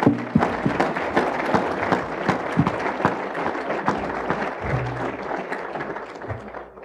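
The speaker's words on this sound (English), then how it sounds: "Let's give him another round of applause." An audience applauds a senator at a university lecture series event, steady moderate clapping from a room of listeners with individual sharp claps standing out, continuing throughout with no talking.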